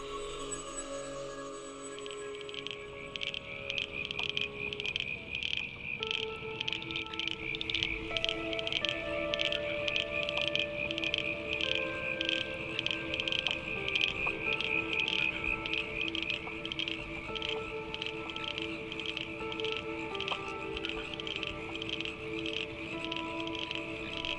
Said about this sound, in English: the humble frog has serenaded the setting sun with its chorus of croaks and calls